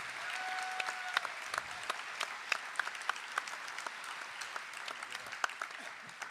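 An audience at a memorial celebration claps steadily, the applause moderately distant and fairly quiet, with sharp individual claps standing out and a faint voice heard early on.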